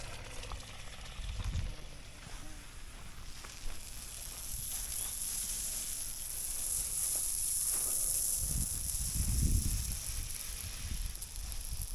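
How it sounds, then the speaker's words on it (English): Water flowing through a home irrigation sprinkler line just after a zone valve opens, a steady faint hiss with a high whistling tone, broken by a few low rumbling gurgles of air pushing through the pipes. "Water's flowing."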